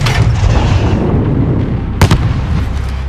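Flare illumination rounds launched in Call of Duty Modern Warfare 2019 combat: a heavy, continuous rumbling boom with a sharp burst around the two-second mark, loud and without speech.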